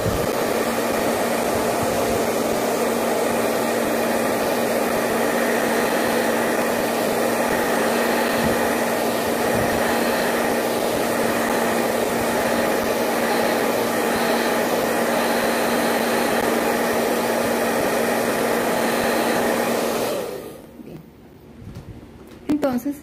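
Hair dryer blowing on paint over dark fabric, a loud steady whirring roar for about twenty seconds before it is switched off and winds down.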